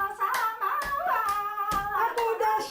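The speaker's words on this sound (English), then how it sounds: "She's clapping and has tons of energy." An elderly woman clapping her hands amid lively Japanese music, a run of sharp claps spaced roughly evenly, each standing out clearly over the melody.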